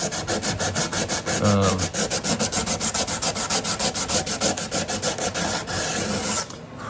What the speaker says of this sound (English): I'll take some sandpaper, like 80 grit or 120 grit, and I'll go over the binding and kind of round it over.